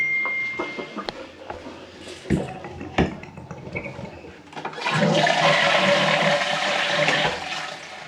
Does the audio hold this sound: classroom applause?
no